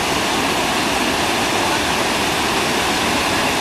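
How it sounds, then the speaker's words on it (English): Red Rock Falls, a waterfall reached by a hiking trail near Red Rock Lake, running at low summer flow, roars as a steady, dense broadband rush of falling water, continuous and close with no voices. "here we are at Red Rock Falls"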